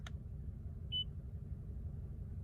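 A single short electronic beep from a Toyota Tundra's radio button rises over a steady low car-engine rumble, brief and clear, with no talking.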